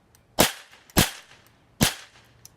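Three sharp, loud cap gun shots ring out at uneven intervals, each a crisp crack with a short tail, then a faint tick at the end; no one speaks.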